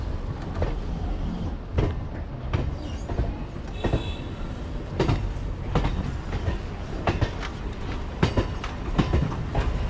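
MEMU passenger train 67204 rolls along the rails near Gudur Junction, giving a continuous rumble with rhythmic clickety-clack wheel beats and occasional rattles from the carriage, heard from inside and without talk.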